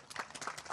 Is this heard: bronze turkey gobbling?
no